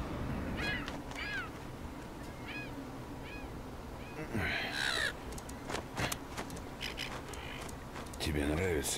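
Crows cawing in a few short repeated calls within the shooter Wolfenstein II: The New Colossus, mid-distance and moderately loud, over a busy bed of game ambience, rustles and a voice talking.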